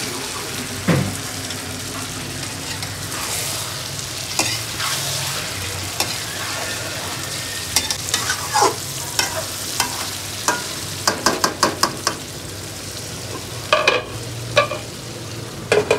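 Goat meat stir-fried with onions in a pan after a splash of water, a steady close sizzle with intermittent stirring scrapes and clicks, growing busier toward the end, no talking.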